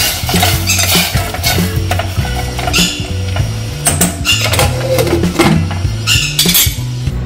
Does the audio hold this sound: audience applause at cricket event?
no